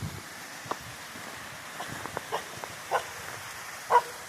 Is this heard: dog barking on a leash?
yes